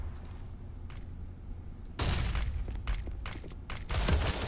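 Rapid gunfire bursts in CS:GO on the Nuke map during a pro match, Na'Vi firing on EnVyUs; quiet ambience gives way to loud, dense volleys of shots with brief gaps, no talk.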